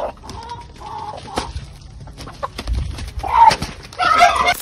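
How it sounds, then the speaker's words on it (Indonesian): A flock of chickens attacking a young hawk makes agitated clucks and squawks in bursts, close and loud, growing busier and harsher toward the end. "Hal itu sepertinya membuat kawanan ayam marah"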